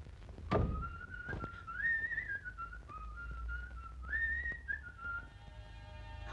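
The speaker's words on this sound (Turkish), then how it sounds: "kulağıma bir ıslık sesi geldi" Someone whistles a wandering tune, with a few soft knocks and thumps nearby and no talking.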